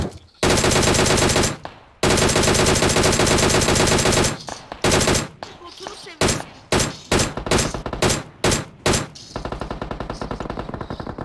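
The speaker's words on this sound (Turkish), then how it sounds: "Lan arkamızdan sıkıyor Gürki." Rapid automatic gunfire from a Vector in the PUBG Mobile battle royale game, long sustained bursts followed by a run of short, loud volleys with brief gaps, close and dominant throughout.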